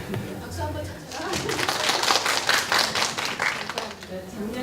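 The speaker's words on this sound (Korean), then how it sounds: "박수 한번 쳐주세요." An audience at an academic aesthetics conference claps in a short burst that swells and fades, with people talking over and around it.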